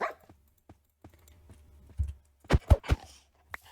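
Dogs in Minecraft, heard as a quick cluster of three or four short barks near the end, with faint clicks and soft taps scattered before them.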